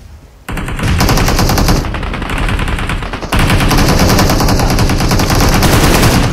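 Sustained automatic gunfire in PUBG Mobile during a competitive esports match, loud, dense rapid bursts filling the whole stretch with a brief lull before heavier continuous firing resumes.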